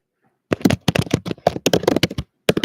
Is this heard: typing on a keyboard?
yes